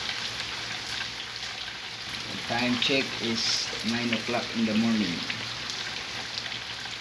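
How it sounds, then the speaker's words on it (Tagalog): Heavy rain hisses steadily during a thunderstorm in Jeddah, a dense continuous wash under a voice speaking near the middle. "Lumalakas na yung ulan gikan sa kalangitan."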